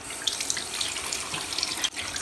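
Water running from a sink faucet with a lighted basin, a steady close splashing hiss with small drips and spatters, briefly cut off near the end before resuming.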